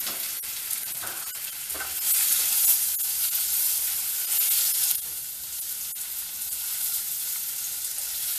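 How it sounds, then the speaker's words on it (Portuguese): Onion and carrot sauté in a hot pan with a steady, close sizzle and a few stirring scrapes, growing louder for a few seconds midway and then settling back. "eu vou acrescentar a cebola e a cenoura e eu vou deixá-las refogarem por alguns instantes"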